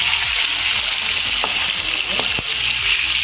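Potatoes fry in a pan over a high flame, a loud steady sizzle close up, broken by a few sharp scrapes as they are stirred.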